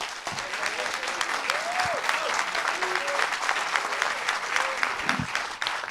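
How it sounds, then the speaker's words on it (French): An audience at a doctoral thesis-presentation contest applauding, a dense sustained wash of clapping from a full room with a few voices calling out over it. "je vous demande d'applaudir Clémentine Vallée"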